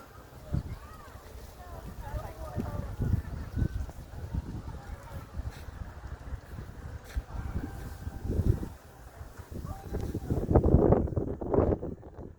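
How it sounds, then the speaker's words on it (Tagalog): Steady strong wind buffeting the microphone at an open, wide outdoor spot in Silang, Cavite, with people talking throughout. "ang lakas ng hangin dito"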